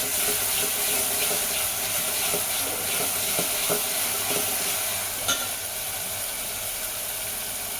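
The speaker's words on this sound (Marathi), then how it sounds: "आपण हिरवी मिरची आणि लसूण वाटून घेतलेलं ते टाकून घेत आहोत." Ground green chili and garlic paste sauté in a pan with a steady hiss, while a spatula taps and scrapes in a loose rhythm, close and without talking.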